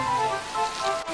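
Steady rain falling, a dense even patter that carries at constant loudness through the short stretch, with no voices over it.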